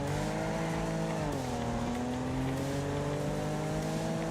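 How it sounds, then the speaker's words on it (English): Damaged car engine in the Wreckfest racing game, a loud continuous engine drone with a shifting pitch that dips and steadies, steady and unbroken through the whole stretch. "I'm hearing like some sort of like popping noise. I think that may be my engine."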